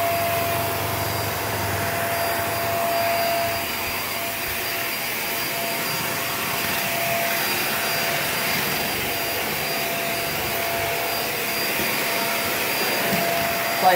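Hoover React Professional Pet vacuum cleaner running on a hard floor and rug, a close, steady motor whine with airy rushing noise, continuous and loud with no talking.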